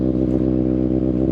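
A motorcycle engine running steadily while riding, a loud, even, low rumbling drone with no change in pitch.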